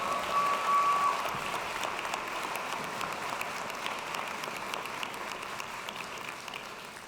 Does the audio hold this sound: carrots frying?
no